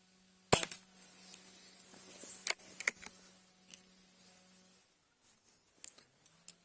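A Shanghai B1-1 air rifle fires a Luman pellet at a 10-metre target, giving one sharp, close crack followed by a few fainter clicks of handling and reloading in a quiet room.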